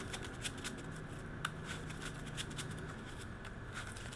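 Soft, close riffling of playing cards being shuffled, with quick papery flutters repeating over a few seconds at low volume.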